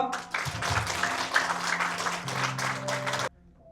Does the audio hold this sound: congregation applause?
yes